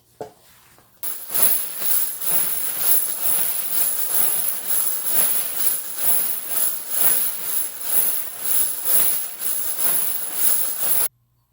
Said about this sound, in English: Gonna zip this up and give it a good tumble.